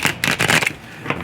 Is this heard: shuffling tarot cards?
yes